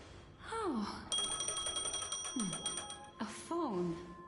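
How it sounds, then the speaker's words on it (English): A phone rings in the video game Honkai Star Rail, a steady high electronic trill lasting a couple of seconds amid the game's soundtrack, with a character's sighing vocalizations before and after. "A phone. Wanna listen in?"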